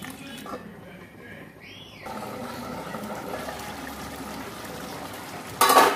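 Water poured into a cooking pot holding fried eggplant, snails and potatoes for a Bengali curry, heard as a steady, moderately loud wash and trickle that builds midway and ends in a brief louder splash.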